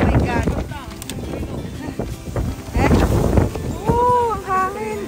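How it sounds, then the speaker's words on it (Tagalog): Strong wind buffets the microphone outdoors at a shopping outlet, a steady rushing roar with gusts, while people talk over it throughout. "Oh my God, ang hangin."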